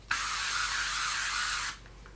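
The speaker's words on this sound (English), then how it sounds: "This is their new invisible spray SPF 50, and it's amazing." HelioCare 360 invisible SPF 50 sunscreen spray releases one steady, close hiss lasting about a second and a half, then cuts off sharply, leaving quiet room tone.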